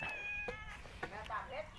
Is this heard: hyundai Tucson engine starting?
no